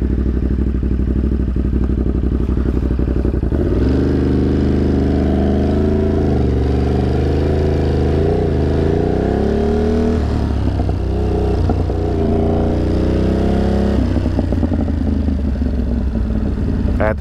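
A motorcycle engine revs hard at an outdoor hill climb event, loud and close, with rising and falling pitch sweeps as the throttle opens and eases, the roar sustained throughout without voices.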